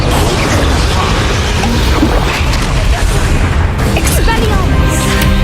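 A Bombarda spell explodes in Hogwarts Legacy, a loud, dense blast with crashing debris and rumbling, sustained at close range throughout.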